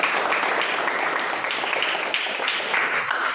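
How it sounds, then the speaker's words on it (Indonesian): Classroom applause from fifth-grade students after a group finishes presenting its discussion results, a steady dense wash of many hands clapping at once, close and continuous for the whole stretch with no voices over it. "tepuk tangan dulu"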